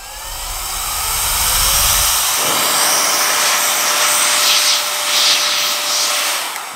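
A MOTRINE cordless air duster motor running, a loud steady high-pitched whine and rush of air that spins up and holds, close to the listener.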